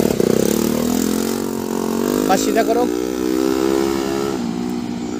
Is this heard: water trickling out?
no